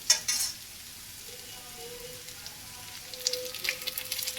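Radish pieces fry in hot oil with a low, steady sizzle, while a few sharp scrapes and clinks of stirring come at the start and again near the end.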